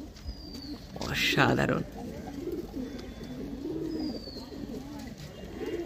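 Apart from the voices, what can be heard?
Andhra pigeon cooing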